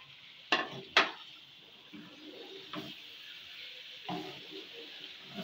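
Chicken dropped into a pan to fry, two sharp clattering impacts followed by a few softer scrapes and knocks over a faint sizzle, close by, with no talk.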